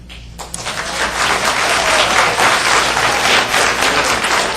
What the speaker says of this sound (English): I know the temptation is to applaud when you hear something you like